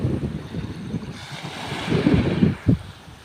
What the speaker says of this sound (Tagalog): Yan, dagat yan mga idol, oh.